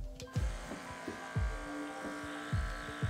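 A pore suction tool hums steadily on its lowest setting, its small motor buzzing close by while brief low thumps and slurping pulses recur as it is moved across the skin.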